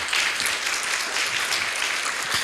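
A church congregation applauds during a Spanish-language worship service, a steady dense wash of many hands clapping throughout, fairly close and filling the room with no voice on top.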